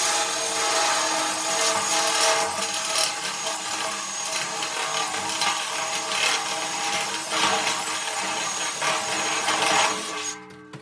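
Harsh, loud metallic grinding of a drill biting into a thin Sabian B8 crash cymbal clamped in a vise, continuous and bright, stopping abruptly near the end.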